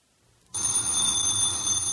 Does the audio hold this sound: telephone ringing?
yes